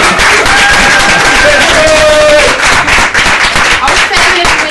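A talk show crowd claps and cheers loudly for Christian, a dense burst of applause with shouts and whoops mixed in, sustained throughout.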